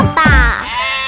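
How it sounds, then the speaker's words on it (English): A single lamb bleats once, close and loud, with a short wavering cry. "Little lamb, baa baa baa."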